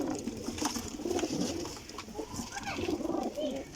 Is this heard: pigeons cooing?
yes